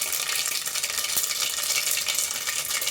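Mustard and cumin seeds for a tempering sizzle steadily in hot oil for tomato bath, a bright, continuous crackling hiss with faint pops, close and unbroken.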